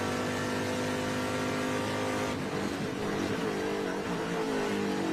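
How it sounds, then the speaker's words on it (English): Race car at the NOLA SpeedTour roaring under throttle, a loud continuous engine note with shifting pitch as the throttle eases and picks up again, heard from a distance with no talking. "I was just listening to Rafa's throttle coming off"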